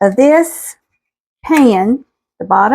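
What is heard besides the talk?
No distinct noise like a dog, phone or traffic.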